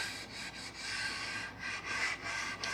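Steady rhythmic rubbing with light scratchy strokes as steel wool is worked very lightly back and forth over a wipe-on poly finish on a wooden guitar body, close and quiet.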